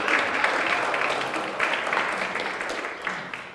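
Audience at a mayoral town hall meeting for North End neighborhoods applauding, dense indoor clapping that stays loud for a few seconds and gradually thins out.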